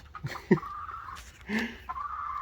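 Chickens in a backyard coop give short clucks and a couple of drawn-out calls, close and fairly clear against a quiet background.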